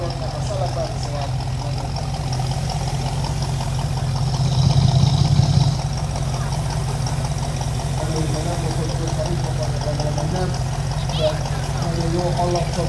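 A Ford Mustang engine and exhaust idle steadily nearby with a brief swell in the middle, under continuous talking.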